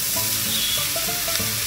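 Vegetables stir-fried in butter in a pan for pancit canton, giving a loud continuous sizzle with scattered crackles and pops, close and alone.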